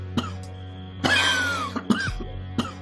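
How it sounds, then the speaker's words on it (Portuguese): One strong, harsh cough bursts out close by, followed by a few throaty rasps and smaller breathy sounds in a quiet space. "deu uma forte tossida."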